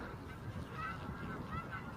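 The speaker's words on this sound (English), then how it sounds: "looks like 6 Canadian geese" About six Canada geese honk repeatedly while taking off, over steady outdoor rumble, the calls overlapping and somewhat distant.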